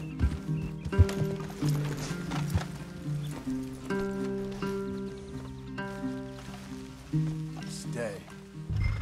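Horses snort and neigh amid clopping hooves in Red Dead Redemption 2, layered with game music and people talking over the top.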